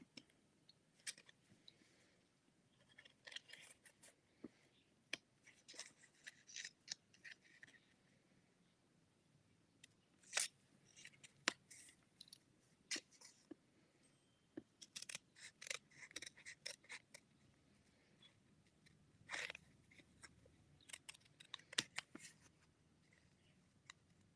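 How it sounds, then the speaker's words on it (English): Scissors snip through paper in a quiet indoor craft session, fussy-cutting around shapes with irregular bursts of short crisp snips and brief pauses, close and fairly soft with no talking. "I'm not great at fussy cutting out"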